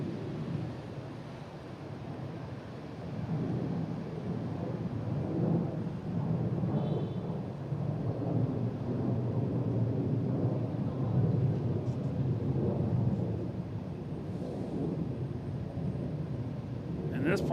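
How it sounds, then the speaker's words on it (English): An airplane taking off at Boston Logan International Airport on a Saturday morning: a loud, steady jet roar swells in after a few seconds and holds for the rest of the clip. "And this plane has no problem getting over the control tower."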